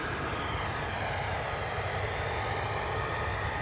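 US Air Force F-35 jets moving at RAF Lakenheath, a steady, fairly loud jet engine roar holding constant without pause.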